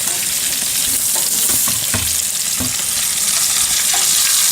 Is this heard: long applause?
no